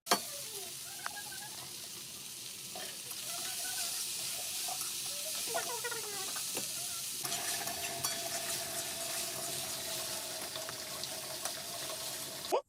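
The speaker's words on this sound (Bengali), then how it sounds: "ভালোভাবে সিদ্ধ হয়ে গেলে শুকনো লঙ্কা আর পেঁয়াজ দিয়ে ভালো করে ভেজে নিচ্ছি" Water spinach, already boiled, frying with dried chili and onion in a pan, giving a steady close sizzle and hiss with occasional stirring scrapes that runs the whole time without talk.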